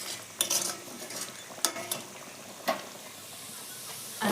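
Ginger, garlic and onion fry in a pan with a soft, constant sizzle, punctuated by several sharp metallic scrapes and clinks of a spoon stirring against the pan, heard close and without talk.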